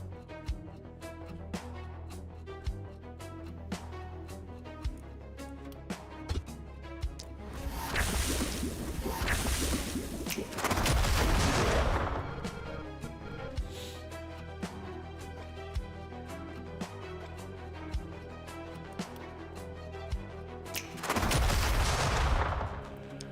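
Cannon fire in The Last Spell, a turn-based game: repeated heavy blasts with bursts of broadband crackle around the middle and again near the end, set over steady game music and sharp transient hits.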